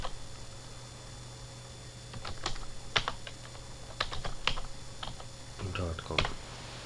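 A computer keyboard typing a web address into a search bar: quick bursts of clicking keystrokes, fairly close, with short pauses between runs and a faint steady hum underneath.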